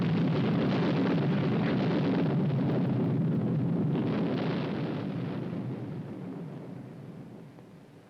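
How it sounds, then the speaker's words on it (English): A deep, rumbling demolition blast set off by army engineers, a loud sustained roar that rolls on and slowly fades away across several seconds. "Engineers create obstacles by demolition."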